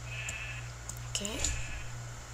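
A single short sheep bleat rings out in a video game, heard over a steady low electronic hum and faint game sounds.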